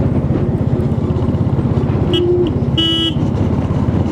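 Horns of a motorbike and a car honking together on the Mumbai–Goa highway, several short bright toots over a loud, steady rumble of engine and road noise.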